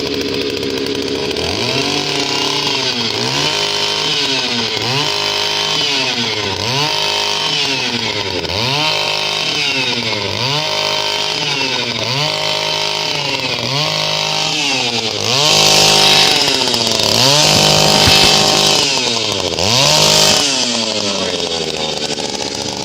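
A simple motorized earth auger drills a planting hole in soil, its engine running loud and steady close by with a repeating rising-and-falling labouring rhythm, growing rougher and louder near the end as the bit bites.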